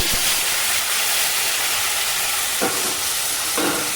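Garlic sizzles steadily in hot oil as tomatoes, salt and turmeric are tipped in, a loud continuous hiss with a few brief clinks of utensils and no talking.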